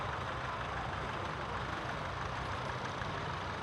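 A restored International 444 farm tractor rolls past in a heritage grand parade at Allora, its engine giving a steady, continuous low drone with no breaks.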